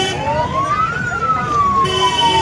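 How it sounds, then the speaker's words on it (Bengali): A police car siren wails nearby in a dense crowd, its pitch sweeping up and then slowly down in one long loud cycle over traffic noise. "পুলিশের গাড়ি"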